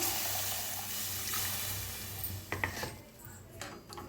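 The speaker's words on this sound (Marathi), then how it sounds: "त्याच्यातच ओतूया पाणी, मिक्सरच्या भांड्यातच घेतलेलं आहे" Water pours in a steady splashing stream into a mixer grinder jar, then stops and gives way to a few light clinks and knocks of the jar.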